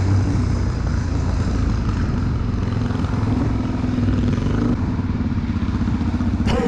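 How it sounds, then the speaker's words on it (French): A Suzuki DRZ 400SM supermoto runs with its exhaust popping and crackling, a loud, close, continuous engine drone heard from the rider's position, with one sharper crack near the end. "ça pétarade derrière"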